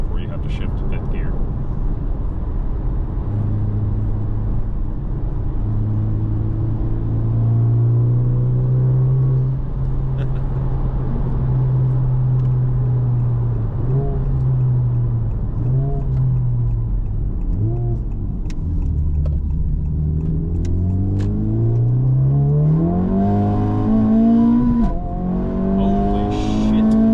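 A Honda Civic Type R FL5 fitted with an Eventuri intake accelerates hard through the gears toward redline, its engine note climbing steadily and loudly over a long pull, with a person talking over it.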